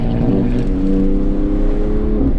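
A widebody BMW M2 CS track car driven hard, a loud, close engine drone with steady harmonic whine, heard from inside without talk.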